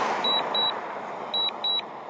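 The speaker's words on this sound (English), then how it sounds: "Sorry for the beeping." A DJI Mini 2 drone controller sounds warning beeps during a return-to-home flight. Two pairs of short, high, clear beeps ring over a steady background hiss.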